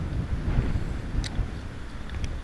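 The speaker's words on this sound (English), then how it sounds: "Forecast said 10-mile-an-hour winds. Clearly it's blowing 30." Strong wind of about 30 mph on a Florida kayak fishing trip, buffeting the microphone with a low, gusty rumble that rises and falls throughout, with faint water sounds and no speech.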